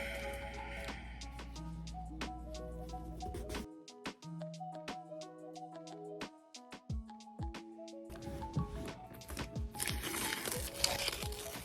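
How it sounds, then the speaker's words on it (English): Masking tape peeled off a pair of gradient-airbrushed shoes, with bursts of crinkling, crackling rips and sharp ticks close to the mic, and a busier stretch of tearing near the end. "Once I get all that tape off"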